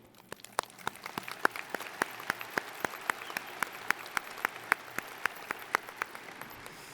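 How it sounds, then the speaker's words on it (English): A graduation audience claps in a steady rhythm, with one close clapper's sharp, evenly spaced claps standing out over a softer, continuous bed of crowd applause. "let's take a moment and give an applause for those individuals"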